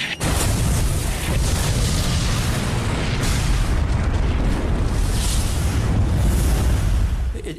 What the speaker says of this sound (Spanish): Y el barco, el Hood, saltó por los aires como si fueran fuegos artificiales.